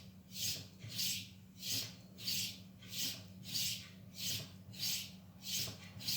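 A knife blade drawn across the leather side of a sharpening strop, giving soft rhythmic rubbing strokes, about eight even passes at a steady pace, faint and close with no talk.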